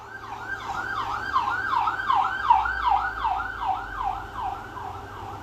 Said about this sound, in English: Because I think that was a cop siren.